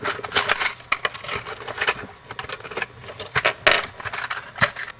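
Metal ring terminals sized for 10 gauge wire and a 1/4 inch stud rattle and clink in a box as they are handled, a close run of small irregular metallic jangles and taps with no talking.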